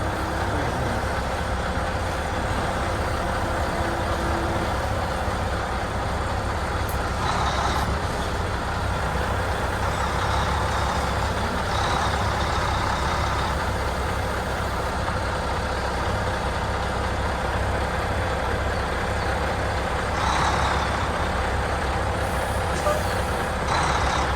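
A truck reverses a short 20-foot trailer with a steady engine drone, a hiss of air brakes and faint reversing beeps near the middle and end, with no talking.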